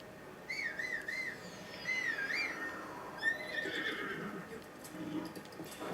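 A horse whinnies several times in rising, wavering calls, fairly close, with light background noise and faint hoof sounds, in The Legend of Zelda: Breath of the Wild.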